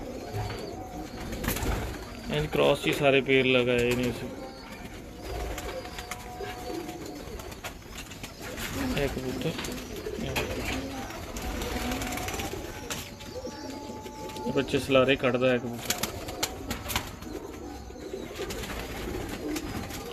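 Breeder pigeons coo steadily in a loft, a continuous chorus of soft rolling calls close by, with someone talking over them throughout.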